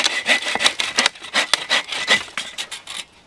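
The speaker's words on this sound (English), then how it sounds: "I'm gonna go grab the saw." A hand saw cuts through bushes around a beaver hole. Quick, close, rasping back-and-forth strokes come in a steady rhythm, then stop abruptly.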